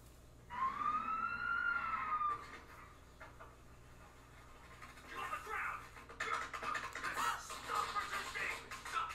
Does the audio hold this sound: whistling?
no